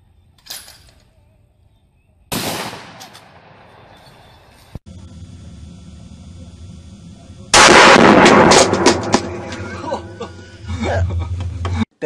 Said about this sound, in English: If you want on this 44 Magnum, you can shoot it single action.